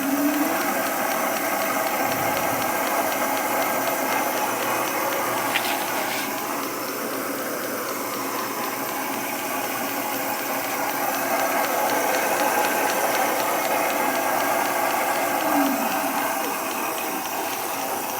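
A 36-volt electric bicycle motor runs on a stand, giving a steady, loud whirring drone with a faint hiss that holds at an even pitch throughout, with no talking.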